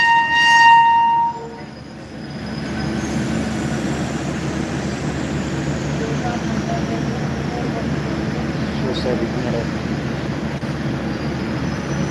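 A train horn sounds briefly at first, then a steady rumble of a train passing through Jolarpettai railway station fills the rest, continuous and fairly loud.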